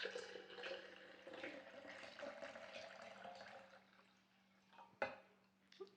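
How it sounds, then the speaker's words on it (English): Blueberry fennel shrub being poured back into a storage container, a soft, close trickle of liquid running steadily, then a brief clink near the end as the container is handled. "So I'm gonna go ahead and pour this back into here for storage."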